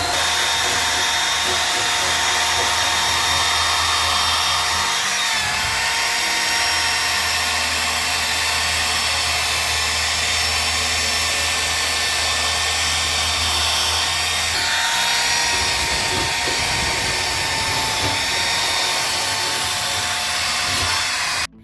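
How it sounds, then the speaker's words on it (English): Wire wheel on a power tool brushing rust off the fuel tank area of an OBS Ford F-150 during rear-tank fuel pump replacement, a loud, steady high-pitched whirring grind that runs the whole time with brief dips in load. "Now, try a wire brush on the wire wheel. Now we got the wire wheel on."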